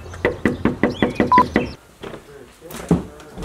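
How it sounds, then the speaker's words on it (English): Someone raps on the door of an abandoned house, a quick run of about eight firm knocks in steady rhythm, close and loud, followed by a few quieter thuds and shuffling. "give her a knock."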